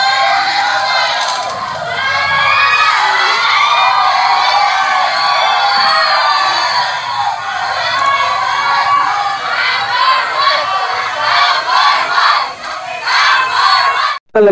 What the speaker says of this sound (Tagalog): Talaga namang napakalakas ng hiyawan sa mga supporters ni Bong Raffy Tulfo